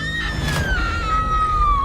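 A woman's shrill scream, used as a sound effect in a horror story, rises sharply and then trails off in a long, slowly falling wail, loud and close over a low rumbling background.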